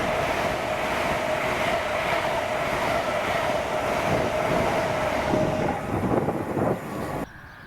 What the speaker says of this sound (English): the 1924 London North Eastern Railway service to Leeds from Aberdeen with 800